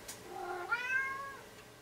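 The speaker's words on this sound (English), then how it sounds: "it's my cat, Manny." A house cat gives a single clear meow close by, rising in the middle, in a quiet room with no talking.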